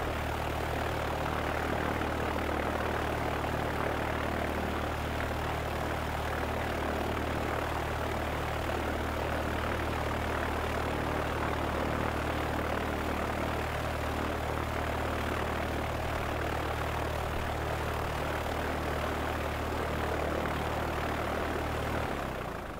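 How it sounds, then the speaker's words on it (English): A propeller airplane taxiing off the runway toward parking, heard from inside the cabin as a loud, steady engine drone with a constant low throb from the propeller lasting the whole time. "we'll taxi off the runway and head to parking"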